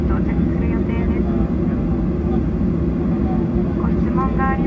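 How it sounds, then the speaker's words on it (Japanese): An ANA airliner taxis toward its gate at Haneda Airport, its engines giving a loud, steady droning roar heard from inside the cabin while an announcement voice speaks over it. "飛行機は67番ゲートに到着する予定です。"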